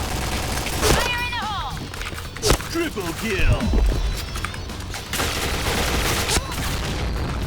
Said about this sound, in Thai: ปืนมันจะดิดดิด